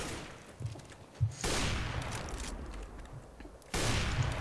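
Counter-Strike: Global Offensive gunfire, several bursts of rapid shots that break in suddenly and loudly and hold for a second or two each, with a quieter gap between them and no talk.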